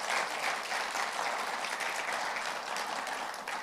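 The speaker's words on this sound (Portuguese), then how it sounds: "Você pode aplaudir ao Senhor e celebrar isso?" Steady congregational applause fills a church service, a dense, even wash of many hands clapping with no voices on top, holding level throughout.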